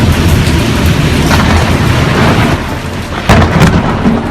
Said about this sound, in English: In Washington, the storm created a spectacular light show